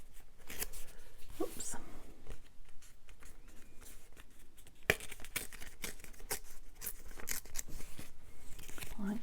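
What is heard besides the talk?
tearing paper ephemera by hand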